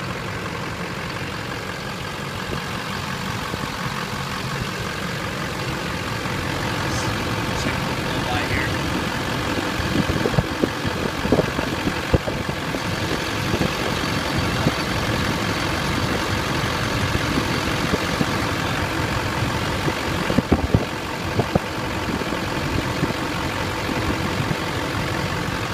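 A 2005 Chevy diesel 4x4 truck idling steadily up close, a continuous low rumbling drone that stays level throughout, with a few scattered clicks and knocks and someone talking over it.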